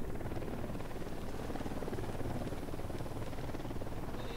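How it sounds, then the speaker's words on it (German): Helicopter in the video game Ghost Recon Wildlands, a steady loud rotor and engine roar that holds constant throughout, close and continuous with no talk over it. "Da nähert sich ein Helikopter."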